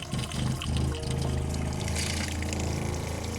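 A water pump runs with a loud, rattling churn as water pours and gurgles through it, close and steady throughout.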